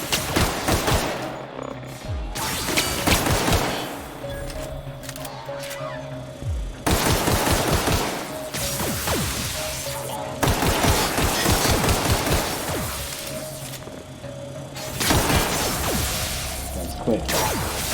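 Loud gunfire from the video game The Outer Worlds rattles in several long, dense bursts separated by short lulls, with mechanical clicks and whooshes between volleys.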